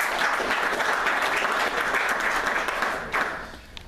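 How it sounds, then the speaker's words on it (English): A conference audience at an industry meeting gives a steady, dense round of applause that carries on for several seconds before thinning and fading toward the end. "if you could give him a big round of applause"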